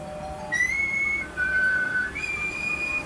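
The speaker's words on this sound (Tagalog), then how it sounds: "Oo. Ganito ang sipol." Clear, tuneful whistling by a person: a few sustained notes sliding between pitches over steady background hiss, no talking.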